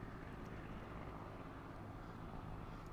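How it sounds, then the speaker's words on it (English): Carrier aircraft engines droning in World of Warships, planes hovering over a smoke screen, a low steady drone at moderate level without breaks. "The friendly CV's got his planes hovering over the top of the smoke."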